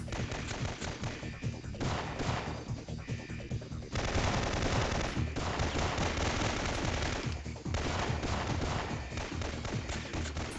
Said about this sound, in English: Fortunately, they are shooting at me quite a lot.